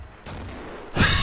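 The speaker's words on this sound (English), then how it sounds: "Let me just underhand toss a grenade." A grenade blast in the WWII shooter Darkest Hour, a single close, loud explosion with a rumbling tail, preceded by a softer thump.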